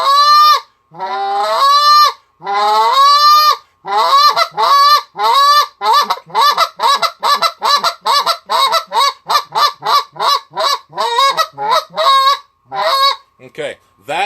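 A reed goose call blown in the moan rhythm: a few drawn-out honks, then a long run of quick, evenly spaced clucking notes. The calls are loud, close and alone.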